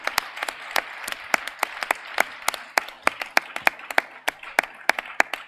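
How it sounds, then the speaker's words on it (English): A small audience applauds the teams at a SimWars final. The claps are sparse, sharp and close, at an uneven but steady pace, with no talking over them. "we'll give them one big last round of applause"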